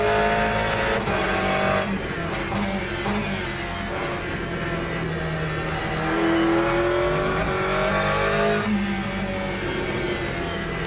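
Engine of a GT race car in the Le Mans Ultimate racing game, droning steadily and loudly throughout with revs climbing and falling as gears shift, plus a brief tire squeal.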